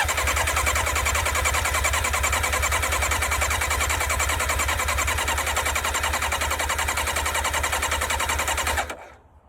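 A sports motorcycle bought at auction cranks steadily with its starter, a loud, fast, even churning that runs unbroken for about nine seconds without catching, then stops abruptly.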